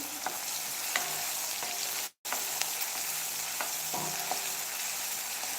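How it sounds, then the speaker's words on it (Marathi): Tomato frying in oil over a medium gas flame, a steady close sizzle with light crackles and occasional stirring clinks, briefly cutting out for a moment midway, no voices. "तेलामध्ये छान असा टोमॅटो चिरकून घ्यायचा आणि इथे गॅसची फ्लेम मिडियम करते"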